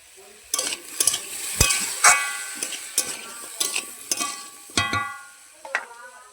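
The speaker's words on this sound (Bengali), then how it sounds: "এটাকে একটু এরকমভাবে সেঁকে নেব।" Maggi-flavoured atta roti being pressed and turned on a hot pan, a series of close, rhythmic scraping and tapping strokes with faint sizzling underneath.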